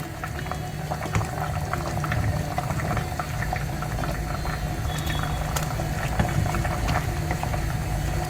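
Tender jackfruit and chickpea curry, Mangalorean kadgi chana gassi, bubbling in a pot, a steady close boil with small popping bursts and occasional faint clinks throughout.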